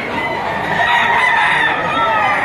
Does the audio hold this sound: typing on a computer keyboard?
no